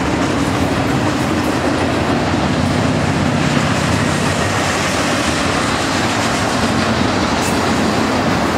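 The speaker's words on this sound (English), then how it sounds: "an eastbound two-unit piggyback train comes around the curve at Rochester" An N-scale model of an eastbound two-unit piggyback train rounds a curve on a layout at a UK N-trak convention, giving a steady, continuous rolling rumble with faint clickety-clack throughout, with no talking.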